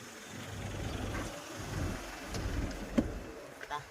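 A family car's engine idles as a steady low rumble at a moderate distance, with a faint click and small shifts of noise over it and no talk.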